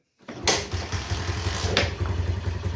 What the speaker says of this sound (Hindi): तो करते हैं बाइक को स्टार्ट